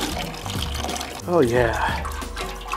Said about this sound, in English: Let me drain some of this water out here.